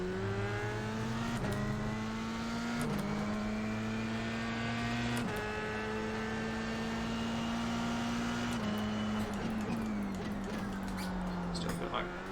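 A Formula 3 race car in the iRacing sim at the Zolder circuit, its engine note holding steady on a hot lap, then dropping and climbing through quick gear changes; the engine is loud, close and continuous, with no talk over it.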